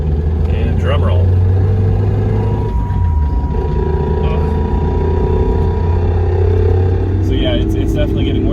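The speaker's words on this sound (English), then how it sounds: "You can feel like the drive shaft like turning over and the bearing just clicking away" Mazda Miata driving with a steady engine and road drone, a faint repetitive clicking and knocking from a worn driveshaft bearing beneath it, voices talking inside the car.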